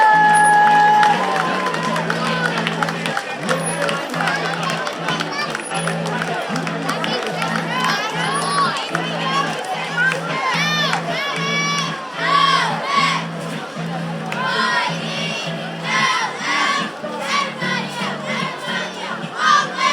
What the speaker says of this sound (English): Cheer it up, girls, let's hear it!